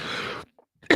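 A single short cough right at the start, then near silence and a faint breath or throat sound at the end.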